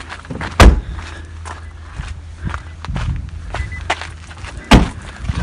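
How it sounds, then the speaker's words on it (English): Two heavy doors of a Nissan Leaf Acenta thud shut, one early and one near the end, with lighter knocks and shuffling footsteps in between. "Let's just close all the doors."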